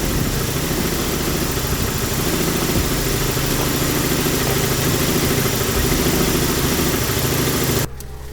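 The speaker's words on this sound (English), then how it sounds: "if you listen closely, you can hear like a slapping noise, and I'm guessing it's still the timing chain" Nissan 180SX engine idling steadily and loudly with a faint rhythmic slapping from a worn timing chain, running alone for about eight seconds before cutting off abruptly.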